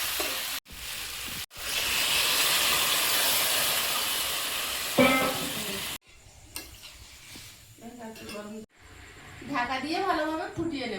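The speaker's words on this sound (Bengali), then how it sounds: "চিকেনটা কষানো হচ্ছে, ওর সঙ্গে আলুটাও দিয়ে দেবো" Boiled chicken sautéing in a pan, with potatoes added, gives a strong hiss and sizzle for several seconds. A quieter stretch follows where someone talks over the cooking.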